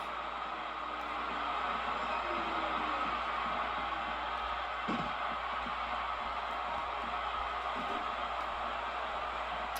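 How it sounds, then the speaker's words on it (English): Crowd at a live wrestling show roaring and cheering throughout, a dense, loud, steady wall of noise with a few sharper bursts, around a brawl on the outside floor. "listen to this freaking crowd"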